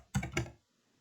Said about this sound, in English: there was so much typing and backspacing